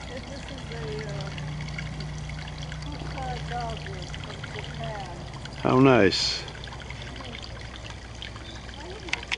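Water trickles and gurgles softly like a small brook, while people talk nearby and a brief louder splash or rustle cuts in.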